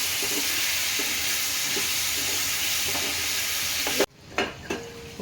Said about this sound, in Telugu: పుదీనా ఫ్రై చేసుకున్నాను